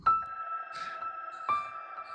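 The Monster Piano plugin with its Frost Piano preset gives an icy, bell-like piano tone. Two soft struck notes ring out with long sustain and a faint shimmer, quiet and close, with no talking.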